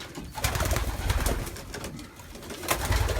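Stock hens among racing pigeons in a loft coo in a busy, overlapping chorus, close and moderately loud, with soft rustling and no talking.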